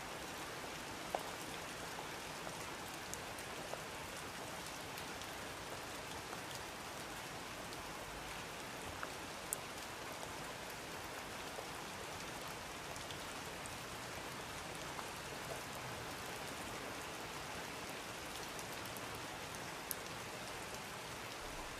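Rain falls steadily on an empty road in Morocco, a dense, even hiss of drops with occasional sharper splashes, continuous and fairly soft throughout.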